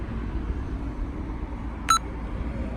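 A single short electronic beep from a 2016 Honda Accord alarm locking the doors sounds once against a quiet background of low hum, crisp and brief.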